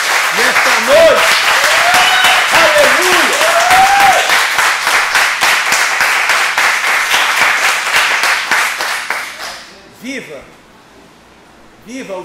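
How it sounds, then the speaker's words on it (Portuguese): Church congregation applauding strongly for about ten seconds, dense loud clapping with voices shouting over it, a voice rising through the noise, then the applause fading out near the end. "dê um aplauso bem forte a Ele nesta noite"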